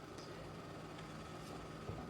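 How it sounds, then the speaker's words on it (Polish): An ageing computer cooling fan whirs noisily, a steady broadband hiss held at an even, moderate level throughout with no speech over it. "Jeśli słychać szum, to wentylator mi zwariował."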